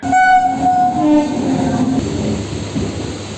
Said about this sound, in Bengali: চলে এসছে local train Duttapukur Sealdah local